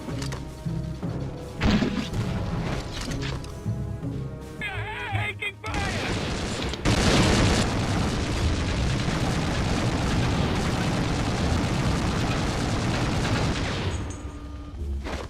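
Rapid gunfire and booming explosions from the PS2 game Conflict: Desert Storm, dense bursts of shooting that keep going with brief pauses, loud and close.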